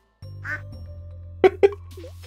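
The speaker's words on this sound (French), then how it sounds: "Oh, j'ai vu le canard manger," Two short, clear duck quacks in the video game Stardew Valley sound close together over a steady game tone, with no talking.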